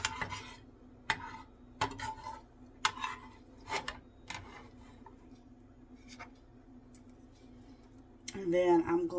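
Slotted spoon scraping and clinking against a pan while scooping bacon bits out of the grease, a series of sharp metallic taps and scrapes at irregular intervals, with a low hum underneath and a brief voice near the end.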